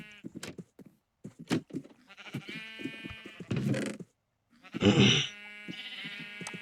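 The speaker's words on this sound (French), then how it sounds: "Ils me font peur à chaque fois ces moutons." Minecraft sheep bleats come in several short wavering calls, with clicks and other game sounds between them; one louder, harsher bleat stands out near the end.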